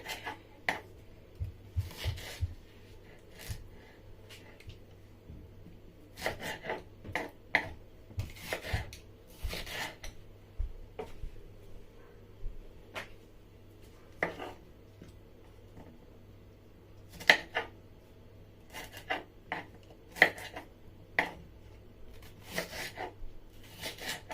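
A knife slices bell pepper on a cutting board while jollof rice is being prepared, sounding as a series of irregular crisp chops and scrapes, close and fairly quiet, with pauses between cuts.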